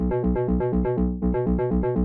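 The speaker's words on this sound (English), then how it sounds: "select a simple FM type bass sound like this" A punchy FM synth bass plays a repeating pulsed progressive house pattern of short, buzzy notes, steady and loud with no voices.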